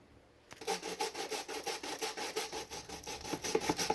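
Peeled cocoyam (macabo) is grated by hand on a traditional village grater, giving steady rhythmic rasping strokes, about two per second, close and moderately loud, with no talking.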